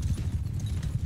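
Horse hooves clip-clopping in the Mount & Blade 2: Bannerlord game, a steady rhythmic thudding of galloping steps, close and moderately loud under low background rumble.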